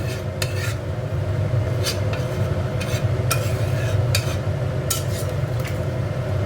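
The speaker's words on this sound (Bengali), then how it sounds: "আলুটাও ভাজা, কষাই হবে" Chicken and potatoes are stirred and fried in a pot for a reduced-oil, low-spice dish, with steady scraping and clinks of a spoon against metal over a constant low cooking rumble, and no voices.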